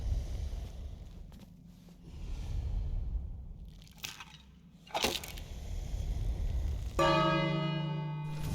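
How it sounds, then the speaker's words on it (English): In the King's Quest Chapter One game, a bell is struck and rings out with a bright, sustained tone that lingers at the end, after earlier dull crunching and knocking sounds. "So what happens if you ring this bell?"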